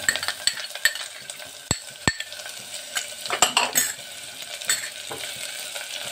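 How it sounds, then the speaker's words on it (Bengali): Chopped onions stirred with garlic in a pressure cooker, a steady close sizzle broken by sharp metallic clinks of the spoon against the pot, with no talking. "এবারে তার মধ্যে দিয়ে দিচ্ছি আমি কুচি করে রাখা পেঁয়াজ।"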